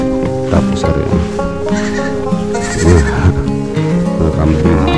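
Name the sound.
goats bleating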